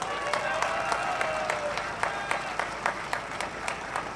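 An outdoor crowd at a political speech in a public square in Daegu claps steadily in moderate, sustained applause, with faint voices mixed in.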